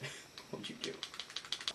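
Keys on a computer keyboard are struck in a quick, even run of sharp clicks close by, with talk over the start.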